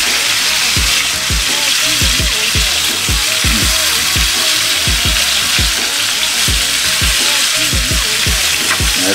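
Barbecue chicken sizzles and burns loudly in a skillet, a dense, steady frying hiss with repeated crackling pops throughout, close and with no talking.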